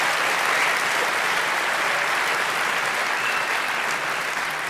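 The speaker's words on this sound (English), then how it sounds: "Give him another great round of applause." A studio audience at a talk show gives a guest a sustained round of applause, with dense, steady clapping from a large crowd filling the whole stretch without a break.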